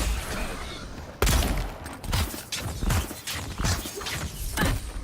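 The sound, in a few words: magic missile spell from video game Avowed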